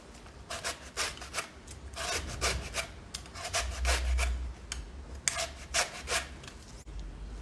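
Vegetables shaved on a hand grater while cooking Quang-style noodles with pork and shrimp: a close series of rhythmic rasping strokes in uneven bursts, with no talking.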